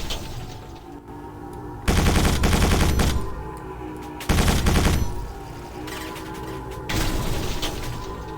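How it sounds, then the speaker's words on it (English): Turrets fire in the video game Quake 4: three long, loud bursts of rapid gunfire separated by shorter pauses, over a constant low game background hum. "Who is shooting at me? Oh, they're up there, the turrets."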